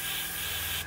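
Airbrush steadily spraying white primer onto the front canopy of a 1/48 scale Airfix North American P-51D model, a continuous close hiss running almost unbroken before cutting off abruptly at the end.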